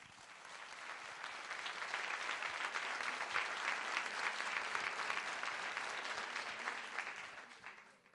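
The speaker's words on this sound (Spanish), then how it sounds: "Un aplauso para él" Applause from a crowd at a PSOE political rally in Leganés, a dense, even sheet of clapping that swells in over the first seconds, holds steady, then tapers away at the end.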